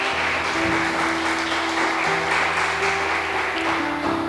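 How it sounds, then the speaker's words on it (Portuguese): Church congregation applauding during a worship service, a steady broadband wash of clapping with an organ or keyboard chord sustained underneath throughout. "Você pode aplaudir ao nome do Senhor"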